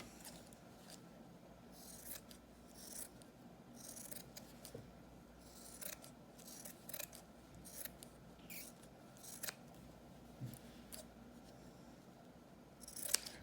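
Quiet, repeated snips of scissors trimming fabric around a cloth face mask, coming in an irregular rhythm with short pauses between cuts, close and fairly faint.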